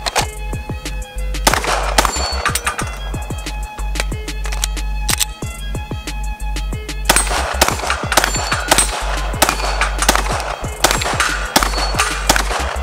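Pistol shots from a Glock G4 Roland Special at a shooting range ring out loud and close, sharp cracks fired in quick bursts and irregular strings throughout, over a steady low hum.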